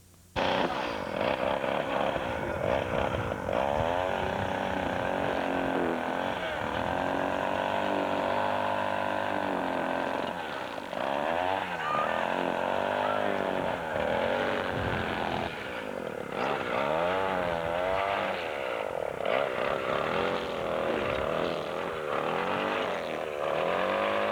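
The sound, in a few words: power tool cutting wood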